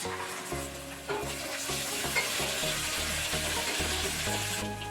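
Onions, curry leaves, black gram dal and mustard seeds fry with ginger paste in a pan, a steady close sizzle with a spoon stirring and scraping at a regular beat the whole way through.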